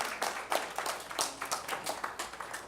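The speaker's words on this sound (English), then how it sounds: "Applause before I speak" An audience at a congressional candidates' forum gives a short round of scattered applause, fairly faint, with individual claps standing out in an uneven rhythm.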